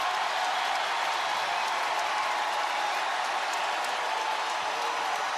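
Crowd at a women's college basketball game between USC and UCLA applauding, a dense, steady wash of clapping and cheering filling the arena.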